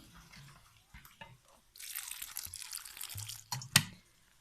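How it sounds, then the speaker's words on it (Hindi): Water is poured into a blender jug holding onion, tomato, garlic and green chillies, giving soft splashing and dripping that builds toward a brief louder splash near the end. "इसमें आपने ऐड कर देना है थोड़ा सा पानी"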